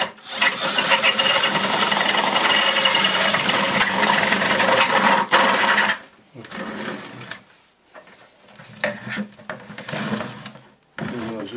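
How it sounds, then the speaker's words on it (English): Power drill boring a hole through a hefty wooden stick about three-quarters of an inch thick, a loud steady whine for roughly six seconds, then shorter intermittent bursts as the bit works through the wood. "So I just drill a hole in through it here."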